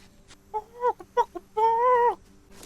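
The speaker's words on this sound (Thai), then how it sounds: "อยากจับไก่" A chicken in the video game Solarpunk gives a run of short clucks followed by a longer, drawn-out squawk, close and clear against a quiet background.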